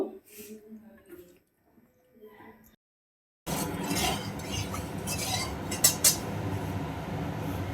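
Soft squishing and handling sounds as salt and turmeric are rubbed into fish for a few seconds, then a dense, steady clatter of kitchen noise with occasional sharp clinks.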